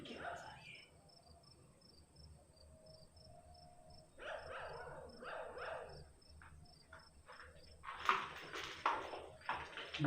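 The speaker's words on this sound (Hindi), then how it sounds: "कुत्ते की आवाज़ भी मुसलसल आ रही है।" At night, a dog barks in repeated bursts over a constant bed of chirping crickets, with quieter gaps between the barks and the loudest bursts near the end.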